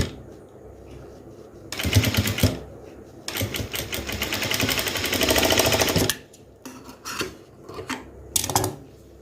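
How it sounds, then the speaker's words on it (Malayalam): A sewing machine stitches a small puffed sleeve on a crop top in loud bursts, with two long runs and a few short stops and starts between them. "ഇനി നമുക്കിതിനെ ഒന്ന് സ്റ്റിച്ച് ചെയ്ത് വയ്ക്കാം"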